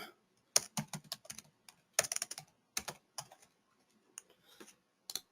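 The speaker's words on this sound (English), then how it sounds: "Okay, he will be typing." Computer keyboard keys clatter in irregular bursts of quick clicks with short pauses between, close and fairly quiet, during a .NET console programming session, with no talking.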